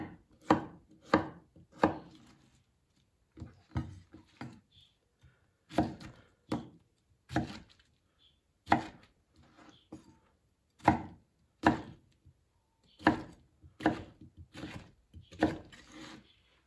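A knife chops fresh pineapple into bite-sized cubes on a cutting board, with a close, irregular series of sharp chops that sometimes come in quick bursts and sometimes pause, and no voices.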